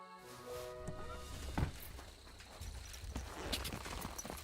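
Horse hooves galloping in the video game Kingdom Come: Deliverance 2, a steady rhythmic clip-clop of hoofbeats over game music and ambience, moderately loud and continuous throughout.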